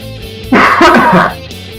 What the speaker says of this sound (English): I've kind of been like coughing a bit tonight.